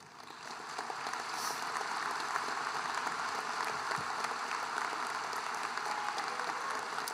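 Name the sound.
applause for the teachers at a graduation ceremony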